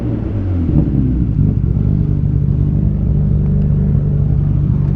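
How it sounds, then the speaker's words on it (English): A 600 hp Nissan GTR R32 engine runs with a light rev, a loud, close, deep rumbling throb that stays steady and even throughout without a pronounced rise. "Alright Gary, let me get you to turn the car on and we're gonna do some audio test. Give me a little light rev"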